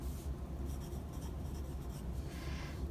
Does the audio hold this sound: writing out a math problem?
yes